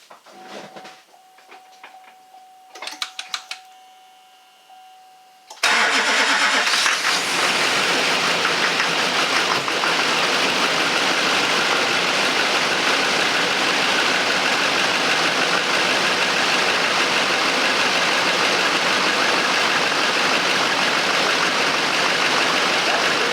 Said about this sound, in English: Okay, she's all ready for a test start